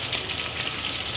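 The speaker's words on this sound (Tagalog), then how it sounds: "Guys, talsik ang mantika eh." Sardines frying in hot oil in a pan, a steady close crackling sizzle with fine popping spatter throughout, no voices.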